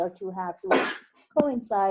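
A single sharp sneeze bursts out midway during a classroom math lecture, briefly interrupting steady speech from the instructor before the talk continues.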